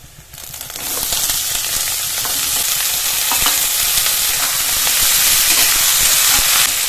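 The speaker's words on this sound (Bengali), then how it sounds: "উচ্ছে আর আলুটা ভেজে নেবো" Bitter gourd and potato pieces, added to browned onion, sizzle and hiss steadily in hot mustard oil as they are stirred, a loud, close, continuous frying sound after a quieter start.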